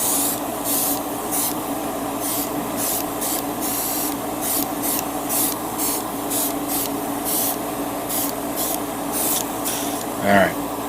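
Short, rhythmic bursts of spray paint hiss repeatedly over a ForceBuilders Death Star Attack Set model kit, about a dozen close, loud puffs with brief gaps between them, ending with a small knock.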